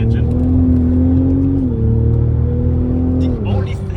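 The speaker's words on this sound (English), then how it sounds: "It's such a good sounding engine." A BMW Z4 with a B58 engine drones loudly from inside the car, holding steady revs with slight pitch shifts as it pulls along, with a voice speaking over the engine.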